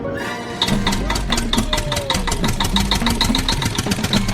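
A tractor's heavy diesel engine idles close by, chugging with a fast, even knock that runs steadily throughout.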